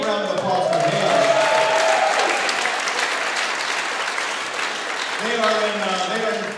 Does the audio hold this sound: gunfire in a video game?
no